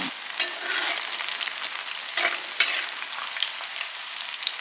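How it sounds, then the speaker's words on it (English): Chicken pakora frying in hot oil, a steady dense sizzle and crackle with a few sharper pops, close and continuous throughout. "I'm gonna start dropping them in the oil."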